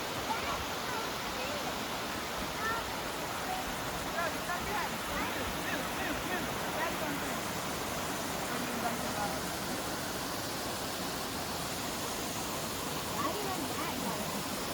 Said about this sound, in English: Got a beautiful waterfall.